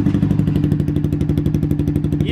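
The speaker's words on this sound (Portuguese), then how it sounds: "Vou ligar aqui de leve pra vocês ouvirem, mas não vou acelerar" A Honda Twister 250 motorcycle fitted with a Fortuna exhaust idles steadily nearby, with a deep, even, rapid putter and rhythmic low thumps.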